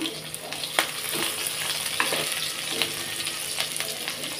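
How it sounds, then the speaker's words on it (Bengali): Pointed gourd (potol) lightly salted and frying in hot oil in a home kitchen, giving a steady close sizzle with sharp crackles and stirring clicks throughout. "পটলে একটু তেল বেশি লাগে আর ভাজা হতে একটু সময় লাগে, এর জন্য ভাবছি আগে একটু পটলটাকে লাল করে নিয়ে"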